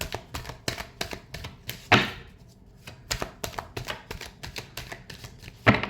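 Tarot cards are shuffled by hand, producing a quick run of crisp clicks and riffling taps at close range, with a few louder flutters, no talking.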